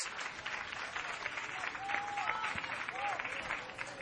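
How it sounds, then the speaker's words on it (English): A round of applause rises from the stands at an all-star baseball game after an outfield catch for the second out; the clapping is distant and moderately quiet, with crowd murmur and faint voices mixed in. "Rodriguez gets a nice round of applause here from the stands"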